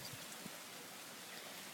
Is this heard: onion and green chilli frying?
no